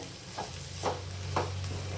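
A spoon stirs potato bhaji in a steel kadhai, giving three or four soft scraping strokes at a steady pace over a low, constant background hum, with no talking.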